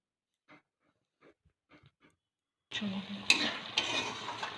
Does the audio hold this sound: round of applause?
no